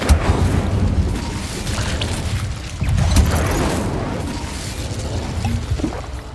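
Incendio fire spell cast in Hogwarts Legacy, a whooshing burst with booming impacts amid combat noise, a sharp hit near the start and another surge around the middle, no speech over it.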